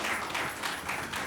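Audience clapping at a Hindi poetry open mic, a short burst of steady applause from the crowd with no voice over it.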